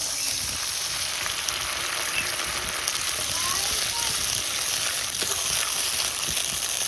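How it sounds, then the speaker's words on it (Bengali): Loud, steady frying hiss as water is added to a spiced masala sizzling in oil, cooked for a village-style koi fish curry. The crackle runs continuously and close with no break. "মশলাটা খুব সুন্দর করে কষিয়ে নিয়েছি, এবার একটু জল দিয়ে দিচ্ছি।"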